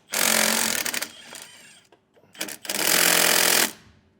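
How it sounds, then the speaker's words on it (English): A 14mm socket on a power tool spins off the nuts holding a trailer brake assembly in place, giving two long loud rattling bursts with short choppy pulses between, close by. "Now we're going to take a 14mm socket and remove the 5 nuts that are holding our"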